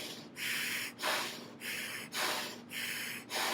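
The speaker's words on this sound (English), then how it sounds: "it's kind of cool to hear your breathing and hear the intense when you're really working out" Heavy, rhythmic breathing through a Training Mask 3.0 workout mask, close and loud. Three cycles of rushing, hissing inhales and exhales alternate evenly, with no talking.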